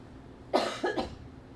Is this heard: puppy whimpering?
no